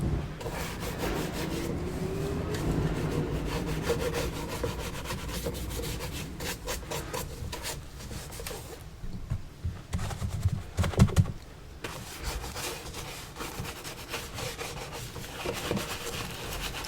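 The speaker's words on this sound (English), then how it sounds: "So just by cleaning them, wiping them clean real quick, gives it a little drinky drink" Leather shoes being wiped and cleaned during a shoe shine, a close, steady rubbing and brushing texture that swells and fades in strokes with no talking.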